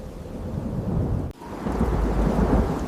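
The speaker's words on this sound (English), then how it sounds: "When the rains finally come, they change everything, for everyone." Thunderstorm with a heavy rumble of thunder over steady rain, a brief dip in the middle before the roar swells again, loud and continuous with no voices.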